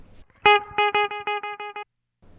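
A guitar chord played through a BOSS RE-2 Space Echo pedal repeats in a rhythmic train of gradually softening echoes, then stops dead when the footswitch kills the echo, leaving a brief quiet gap.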